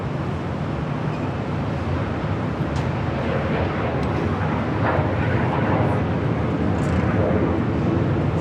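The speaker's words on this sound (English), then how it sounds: "Should be seeing that MD-11 arriving here on the south side coming in from Memphis." MD-11 jet arriving at LAX from Memphis, heard as a continuous, loud, broadband roar with wind buffeting across the whole stretch, swelling slightly toward the end.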